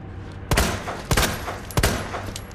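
Three sharp, loud gunshots from the Resident Evil 2 video game ring out at roughly even intervals, each a hard crack with a short echoing tail over a low background hum.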